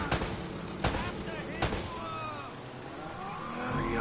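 Gunfire in the video game Uncharted: Drake's Fortune on PS4, with three sharp loud shots spaced under a second apart, followed by whooshing game effects and fading echoes.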